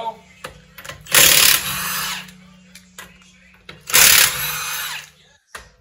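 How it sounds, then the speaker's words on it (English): A Milwaukee power tool zips loose the lug nuts of a 2013 Honda Odyssey wheel during a home brake job, giving two loud, roughly one-second whirring bursts with quieter rattling shop noise between them. "Milwaukee Tools at it again."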